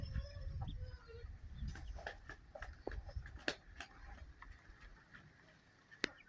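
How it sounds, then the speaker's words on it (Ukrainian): Soft quacking and clucking calls from a mother duck calling her ducklings to eat, repeated irregularly over a low outdoor rumble; fairly faint and a little distant. "що качка гукає їсти"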